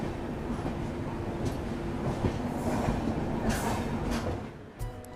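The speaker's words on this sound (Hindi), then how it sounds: "ये है आज़ाद, पुराने भारत का एक बेहद पुराना स्टीम लोकोमोटिव" Azad, a very old steam locomotive in India, rolls past with a steady, continuous rumble and faint wheel clatter, fairly close and with no voices over it.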